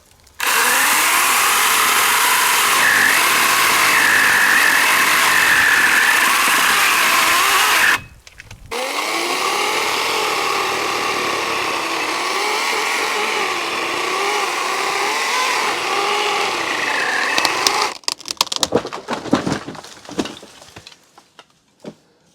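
A battery-powered chainsaw cuts dead aspen trees in the Rocky Mountains, a loud steady high whine that drops out briefly, resumes bogging under load through the wood, then stops with scattered cracks and thumps.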